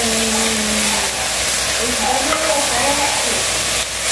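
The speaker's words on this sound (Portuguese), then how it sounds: "Olha, a gente já tá fritando" Loud, steady sizzling of ground beef frying in a pan, a continuous crackling hiss with occasional stirring scrapes and a brief voice underneath.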